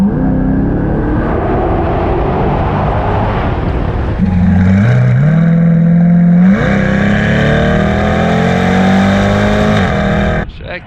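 A Chevrolet Corvette C8 drives through a tunnel, its engine a loud steady drone that swells into rising revs and echoing resonance, then fades abruptly at the end.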